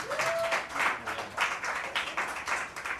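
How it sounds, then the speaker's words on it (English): Steady crowd applause at a dive bar comedy show fills the whole stretch, dense clapping with slight swells and a few brief whoops rising over it. "give them a round of applause, please."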